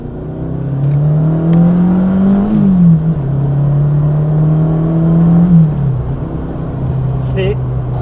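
A car accelerates hard along a straight, the engine note rising and dropping with gear changes in a loud, close whine while people talk over it.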